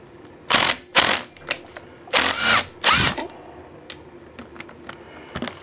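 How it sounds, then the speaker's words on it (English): A small Makita torque driver works on a Honda Ruckus engine rebuild, firing in several short, loud, close whirring bursts separated by pauses, with faint clicks and handling noises in between. "This little torque driver works great, this Makita"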